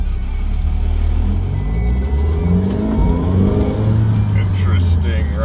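An Audi TTS with an APR Stage 3 tune accelerating under light throttle, its engine humming and rising in pitch, with people talking inside the car over it.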